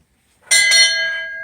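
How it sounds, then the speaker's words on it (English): An old hand-pulled fire cart's bell is struck once, a bright metallic clang that starts sharply and rings on with a long, slowly fading tone. "They use that bar. They would ring a bell."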